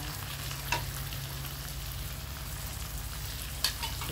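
Shrimp sizzling in a hot pan for Thai stir-fried basil shrimp, a steady frying hiss with a couple of brief louder crackles, no talk.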